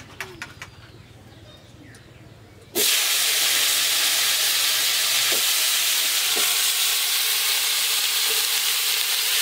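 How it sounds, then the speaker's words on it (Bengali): Seeded banana pieces hit hot oil tempered with white cumin, setting off a sudden loud, steady sizzle that carries on to the end. Before it, quiet kitchen sounds with a few light clinks, and a bird calls faintly outside. "সাদা জিরে ফোড়ন দিয়ে দিলাম"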